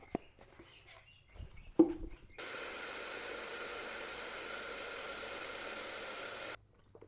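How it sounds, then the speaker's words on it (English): Water poured into the radiator of a 4.0L Jeep Wrangler TJ Sport makes a steady, close rushing hiss that lasts about four seconds, after a few faint handling knocks, then stops abruptly. "And then we'll fill it up with water."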